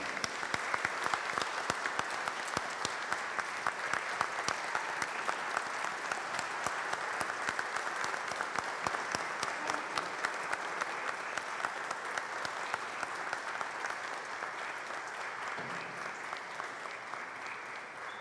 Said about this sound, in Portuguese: O nosso aplauso à radialista Lisa Carioca.